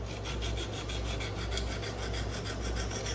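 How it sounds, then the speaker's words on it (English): Spyderco Para 3 knife with a MagnaCut steel blade scrubbed back and forth on a coarse 80-grit KME sharpening stone, giving a steady rhythmic rasping with regular strokes, close and continuous, with no voices. "I make a couple of scrubbing motions up and down, back and forth, just so I get that good burr all the way from the heel all the way to the tip."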